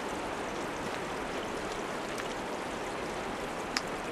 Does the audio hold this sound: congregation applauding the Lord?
no